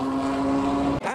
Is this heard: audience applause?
no